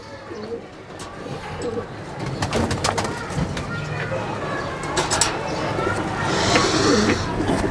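Pigeons at a pigeon farm in Chittagong coo in low, throaty murmurs, close by and continuous, over a steady background hum with occasional soft bird calls.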